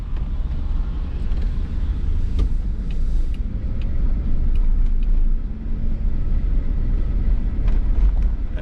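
A 2002 Chevy Tahoe runs after a repair while driving. A steady low engine and road rumble carries on throughout, mixed with wind buffeting, and nobody speaks.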